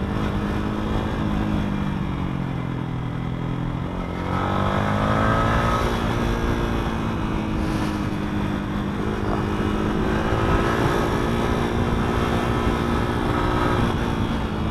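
A rented 150cc motorcycle climbs a steep, winding road in Chiang Mai, Thailand, its engine droning steadily under load with rising and falling pitch as it pulls uphill, loud and continuous with wind noise throughout and no talking.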